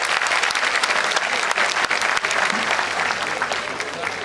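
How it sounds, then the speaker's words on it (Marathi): An auditorium crowd applauding fifty schoolteachers honored at the Mumbai municipal mayor's best teacher awards, a thick, continuous wash of clapping that stays loud throughout and tapers slightly at the end. "आपण जोरदार टाळ्या वाजवूयात सगळ्यांसाठी"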